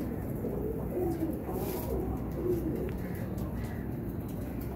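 A Rampuri pigeon gives a few soft low coos over a steady hum of background noise.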